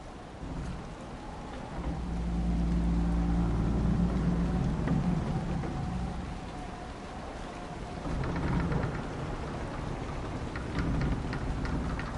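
Steady rain pours with low rolling thunder during a storm in the video game Dragon Age Inquisition, continuous and moderately loud, swelling early then easing.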